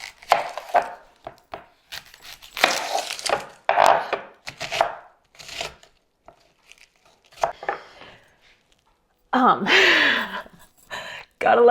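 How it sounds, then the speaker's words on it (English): Knife chopping onion in a home kitchen, rapid bursts of crisp cutting taps on a board, loud and close, separated by pauses with a gasp-like breath near the end. "now we're going to start chopping some onion."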